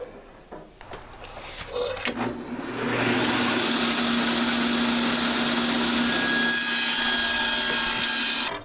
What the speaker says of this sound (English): we're actually going to split our yardstick in half on a table saw